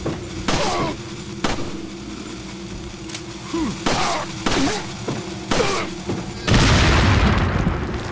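Gunfire in Resident Evil 4: a rapid series of sharp, loud shots, roughly six or seven spaced about a second apart, followed by a broader burst of noise, with speech in the mix.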